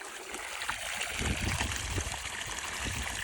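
Water gushes and splashes steadily from a well pipe at strong pressure, a continuous loud rushing flow close by.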